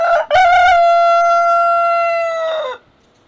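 Rooster, one of several on a free-range homestead alongside a blue Australorp, crows a single long, loud, clear cock-a-doodle-doo close by, held steady before trailing off, with no talk over it.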